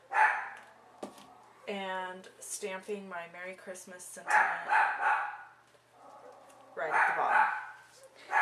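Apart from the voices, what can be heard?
dog barking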